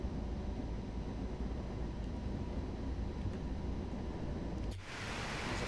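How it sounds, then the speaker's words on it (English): A freight train in Train Sim World 2 roars past close by as a steady, broad rushing rumble that holds for several seconds, then cuts off abruptly into a brighter hiss. "There's a freight train."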